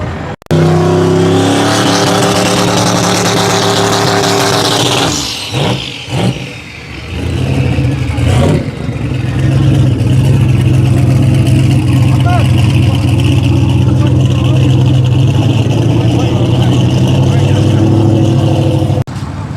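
A twin-turbo car engine roars loudly and close, revving and holding high pitch, then dropping briefly before surging again into a sustained, heavy drone. Voices can be heard faintly under the engine.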